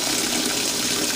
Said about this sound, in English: Sorry for the noise of the faucet.